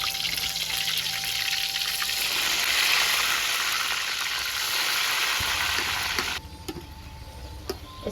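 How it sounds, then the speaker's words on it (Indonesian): Tempeh frying in a pan of hot oil gives a loud, continuous close sizzle and crackle with a faint trickling edge, with no talk. "Biasa lur goreng tempe."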